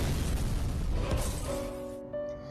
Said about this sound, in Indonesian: seketika mobil di depan bank itu boom